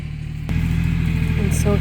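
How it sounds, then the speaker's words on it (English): A tractor engine runs on a rural homestead property, giving a steady, close, low rumbling drone that holds without a break from start to finish and grows slightly fuller partway through. "You don't like tractor noises?"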